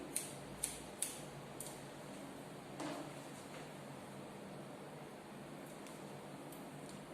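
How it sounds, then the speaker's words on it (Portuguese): Scissors cut a paper sewing pattern guide, giving a handful of quiet, crisp snips spaced irregularly over a faint steady room background. "E vou cortar, ó, a minha guia aqui."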